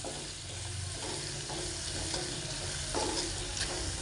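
Two green chillies sizzle in hot oil in a pan while a spoon stirs and scrapes through them in irregular strokes, close and steady with no talking.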